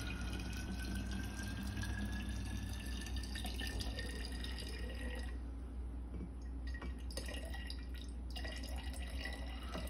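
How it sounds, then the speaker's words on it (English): Water poured steadily into a Kimble bottle while mixing basic plant tissue culture seed-starting media, a continuous close splashing and trickling rush with no talking. "add our water."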